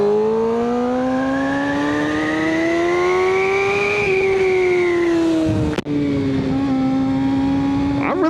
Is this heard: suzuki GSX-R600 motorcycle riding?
yes